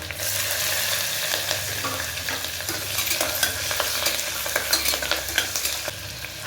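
Ginger, garlic and green chili sizzle in hot oil in a pan for veg pulao, a dense close crackle with frequent sharp spatters and stirring clicks that grow busier toward the end.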